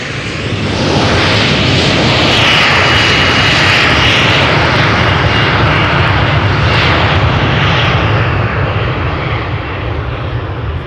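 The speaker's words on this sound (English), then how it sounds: "We have this Embraer from KLM. Doing a turn and burn." KLM Embraer 175 jet airliner roaring loudly and steadily with engines near and at high power throughout, a broad continuous rumble and whine with no speech.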